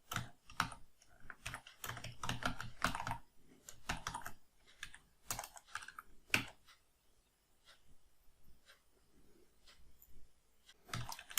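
Bursts of fast typing on a computer keyboard while a VBA procedure is written in Excel's Visual Basic editor, dense clusters of key clicks broken by pauses and a few louder single taps, close and alone with no talking.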